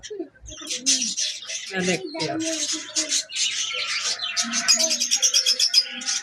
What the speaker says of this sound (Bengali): আর এখানে আছে দামাসিস কবুতর